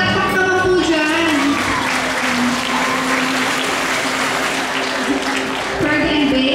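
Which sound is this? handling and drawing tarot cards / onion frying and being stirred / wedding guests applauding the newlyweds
wedding guests applauding the newlyweds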